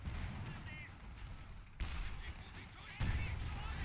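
In a war video game, a German Pak anti-tank gun fires at an AEC armoured car, two sharp reports standing out over a steady battlefield din and scattered distant gunfire.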